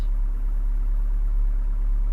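A BMW 2002 with programmable fuel injection idles at about 1,000 RPM in a steady, even rumble with a low hum underneath, close and unbroken.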